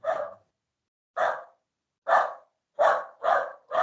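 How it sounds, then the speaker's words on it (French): A dog barks five times, loud and close, in short separate bursts, the first three spaced about a second apart and the last ones coming quicker together. "désolée pour le chien"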